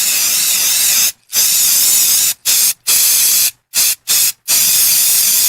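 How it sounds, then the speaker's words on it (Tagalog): Baygon Shield Defense insecticide aerosol spray, sprayed in loud, steady hissing bursts broken by short pauses, near and alone. "Human ako i-spray direkta sa lamok, langaw ug ukok."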